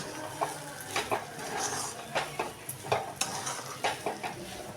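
A spoon stirs and scrapes through semolina sheera in a pan, with soft rhythmic scraping strokes and a faint sizzle, close and fairly quiet, with no talking.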